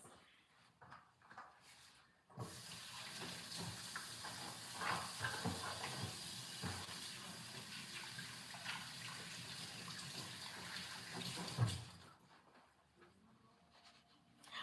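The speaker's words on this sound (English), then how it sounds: "Let me wash my hands." Tap water runs steadily as hands are washed under it, a continuous hissing splash of moderate loudness lasting most of the stretch before cutting off, with faint background noise at either end.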